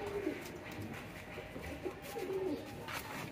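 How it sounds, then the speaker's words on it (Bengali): Young pigeon squabs at a pigeon farm give soft, brief cooing calls, a low warble near the start and a couple more mid-clip, over steady faint background noise with no talking. "দেখেন কবুতর বাচ্চাগুলা"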